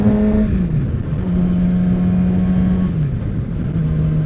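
A new Yamaha R6 sport motorcycle's engine whines loud and close while riding, its pitch dipping briefly as it shifts up into sixth gear, then holding steady.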